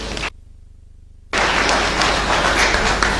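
An audience at a live ceremonial event at the Golden Tulip breaks into steady, loud applause after a brief hush, with the clapping continuing to the end.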